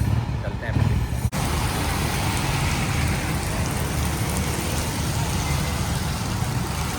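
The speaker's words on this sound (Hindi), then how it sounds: "पता नहीं यहाँ कैसे बारिश बरसने लग गई है" Steady rain falling outdoors, a dense, even hiss of drops on surfaces that continues unbroken throughout, with a faint passing vehicle rumble underneath.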